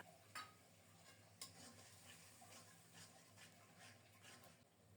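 Ground spices and tomato paste being stirred and fried in a pan, a faint low sizzle with soft spatula scrapes and two brief clinks near the start, without any voices.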